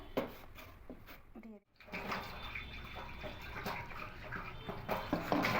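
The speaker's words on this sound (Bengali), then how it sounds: "আরেকটু জল দেব কারণ মিক্সির গায়ে অনেকটাই লেগে আছে" Water is poured into a mixer-grinder jar while making steamed katla fish, a close splashing, trickling pour that breaks off briefly and then resumes.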